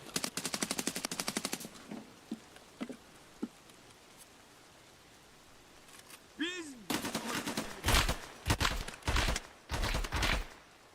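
Automatic gunfire in the tactical shooter Ready or Not comes in rapid bursts, first a quick string, then several single shots and later heavier close volleys, with faint background noise between.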